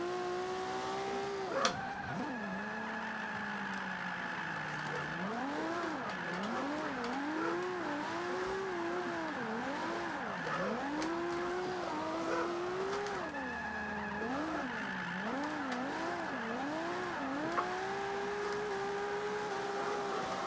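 A BMW E46 drifts in the video game Forza 5, driven with a Thrustmaster TX wheel. The engine rises and falls through repeated revs while tires squeal in long wavering skids, continuous and fairly close.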